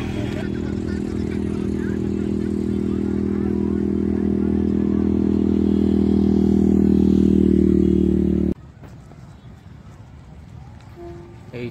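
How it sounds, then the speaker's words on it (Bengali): A motorbike rides past near Malda Airport, its engine a loud, steady drone that builds for about eight seconds and then cuts off sharply, leaving quieter background noise. "এভাবে বাইক চালিয়ে যায়।"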